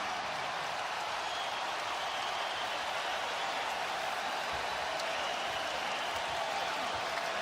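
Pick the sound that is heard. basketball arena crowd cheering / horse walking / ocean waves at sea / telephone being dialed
basketball arena crowd cheering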